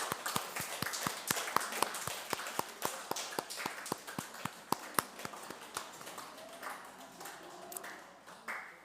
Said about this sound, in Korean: 자, 우리 갈 때까지 박수 칩시다.